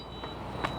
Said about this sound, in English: Also audible horn